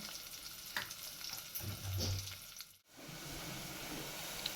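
Onion hits hot oil already tempered with curry leaves and garlic, making a soft, close sizzle with a stirring scrape, a brief dip partway, then steady frying, with no speech.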